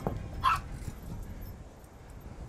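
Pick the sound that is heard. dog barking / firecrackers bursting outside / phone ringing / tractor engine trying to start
dog barking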